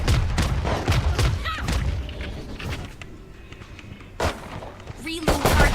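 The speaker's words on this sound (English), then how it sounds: "All missiles away" A missile barrage goes off in the Valorant shooter game, a rapid cluster of sharp blasts and booms in bursts with a quieter lull between, while a player talks over it.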